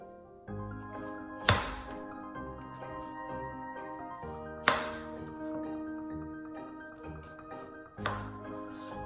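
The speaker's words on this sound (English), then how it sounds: "I just finished cutting the shallots" A knife slicing shallots into thick rings on a cutting board gives a few sharp, separate chops spaced several seconds apart, close and clear over a sustained ringing musical background.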